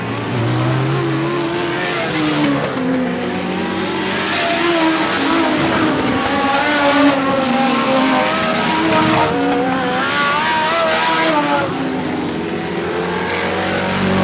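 Sprint cars race around a track, their engines screaming with rising and falling pitch as they pass close by, one car trying to overtake another, with continuous loud roar throughout.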